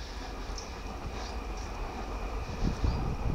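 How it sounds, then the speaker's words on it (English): Metro train rumbling past close by in a park setting, a steady low broadband roar that swells slightly toward the end, with no talk over it. "You can hear the metro, I think."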